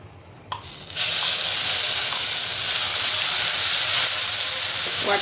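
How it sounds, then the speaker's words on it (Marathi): Mustard seeds, curry leaves and a ground masala paste drop into hot oil, which breaks at once into a loud, steady sizzle. The sizzle holds to the end after a brief quiet clatter before the ingredients go in. "तेल गरम झालं आहे, त्यामध्ये घालायची मोहरी, कढीपत्ता आणि"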